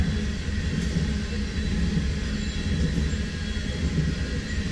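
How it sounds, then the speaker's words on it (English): A loaded coal unit train rolls past nearby, a continuous heavy rumble of wheels clattering on rails with occasional faint squeals. "Unit train of coal, ladies and gentlemen."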